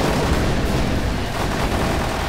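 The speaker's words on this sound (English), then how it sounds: "my plasma cannon completely obliterated them all before we took even a little bit of damage." A plasma cannon fires in the video game Death Skid Marks, making a dense, continuous roar of blasts and explosions that holds steady at high volume for the whole stretch, with no one talking.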